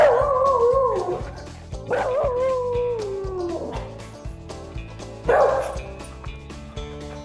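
A dog barks and whines repeatedly up close, with yips and whimpers over a low background hum.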